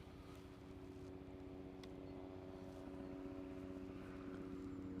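A faint, steady helicopter drone with a low, pulsing rotor throb hums on throughout as it flies overhead at a stadium construction site, with no voices.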